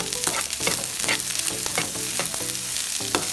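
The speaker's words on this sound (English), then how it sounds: "Stir that through" Greens being stirred through rice and beans for gallo pinto in a hot pan, with a steady sizzle and repeated scraping stir strokes throughout, close and fairly loud.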